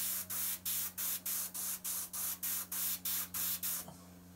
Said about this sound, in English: spray that up on there